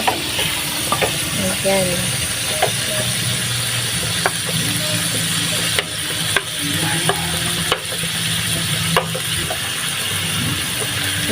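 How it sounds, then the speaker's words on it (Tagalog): Chayote (sayote) is dropped into a pan and stir-fried for ginisang sayote, with a continuous sizzle, sharp clanks of a spatula against the pan, and occasional talk. "At ilagay na po natin itong sayuti."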